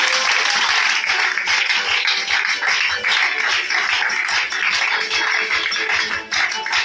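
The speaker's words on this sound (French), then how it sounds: "Acclame Jésus-Christ pour toi" A church congregation applauds steadily during a sermon, dense sustained clapping from many hands filling the space without pause, close and loud throughout.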